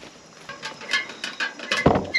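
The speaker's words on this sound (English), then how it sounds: "Really got to get some steps built so I can get rid of that squeaky ladder." Creaking squeaks from a wooden ladder climbed up to a loft of a deer fort, a run of short rising squeals at a steady stepping rhythm, close and fairly loud, ending with a heavier knock.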